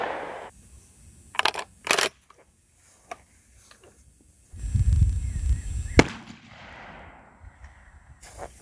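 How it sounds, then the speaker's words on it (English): A 12 gauge shotgun fires a 10-pellet 00 buckshot load at about 25 yards, one sharp blast standing out among several smaller cracks and thumps, with rustling and a brief low rumble nearby. "we'll be shooting at roughly 25 yards"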